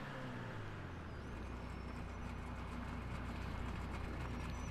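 Vapid Hustler car engine in GTA V, with a steady low rumble and a slight shaky idle running continuously after a brief initial rev-down, close and alone without talk.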